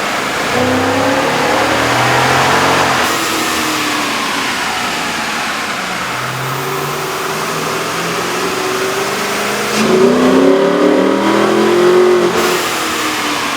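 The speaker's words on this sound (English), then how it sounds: "With the air intake installed, we ran the vehicle in the dyno to test the sound comparison versus the stock intake." Jeep Grand Cherokee with a 5.7L V8 and aftermarket air intake running on a dyno, revving up and down repeatedly with a loud rising and falling engine roar that swells again near the end.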